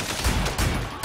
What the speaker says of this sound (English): I just shot you in the nuts